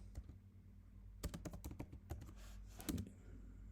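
Computer keyboard keys typed in a few quick bursts, close and fairly quiet, with short pauses between runs of clicks.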